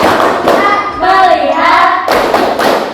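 Rhythmic hand clapping from a classroom clap routine, repeated bursts of sharp broadband claps and thuds with a brief tonal passage in the middle, loud and close throughout.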